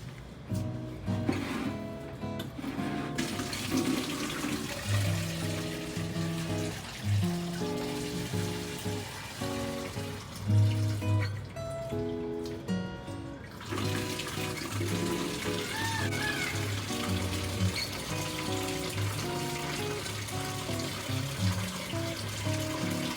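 Water runs steadily while plants are watered at home, a continuous splashing stream over a background of music that lasts throughout.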